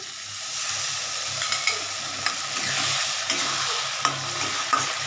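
Hot water is poured into spice paste frying in a pan for rui fish head muri ghonto, raising a steady, close sizzling hiss dotted with light clinks of stirring.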